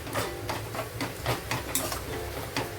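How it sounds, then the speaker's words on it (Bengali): Onions and masala stirred in a pan for chicken curry, with rhythmic scraping strokes of a spoon over a low sizzle, close and clear. "এখন আমি এটা প্রথমে নাড়াচাড়া করব"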